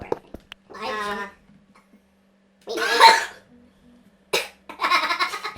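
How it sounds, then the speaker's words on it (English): Three separate harsh, rasping coughs come from a person sitting close to the microphone during a Minecraft gaming session, spaced apart by short silences, each loud and raspy. "Just this ungodly cough."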